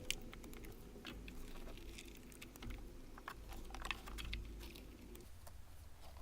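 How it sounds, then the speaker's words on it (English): Ignition coil connectors on an S550 Mustang are pushed down until they latch, giving a quiet run of small plastic clicks and taps close to the listener. "You can go ahead and plug the connection up now. Push that all the way down till you hear a nice click."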